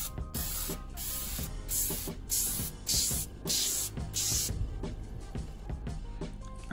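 Oven cleaner sprayed onto a car wheel, a run of short, close hissing spray bursts in quick succession with brief gaps and a faint trigger click between them, then fading out.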